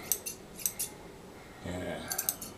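Scissors snip through furnace filter material in a few quick, close cuts, with pauses and a rustle of the fibrous filter being handled between snips.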